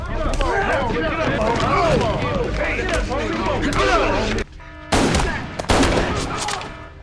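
Prison guards fire rubber bullets during a brawl among inmates, with a series of sharp cracking shots amid crowd shouting, then a couple of loud isolated bangs after a brief lull.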